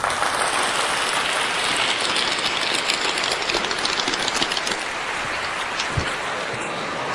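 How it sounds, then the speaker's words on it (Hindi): A crowd claps for a candidate from the sales department at an office gathering, a continuous, dense patter of many hands with no talk over it. "तालियां बजाइए।"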